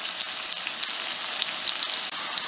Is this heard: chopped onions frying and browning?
yes